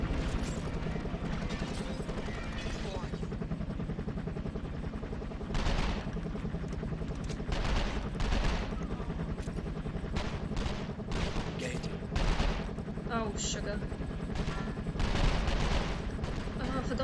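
Gunfire from the video game 24: The Game, bursts of shots crackling at irregular intervals over a constant low rumble of game sound and machinery, with voices talking across it.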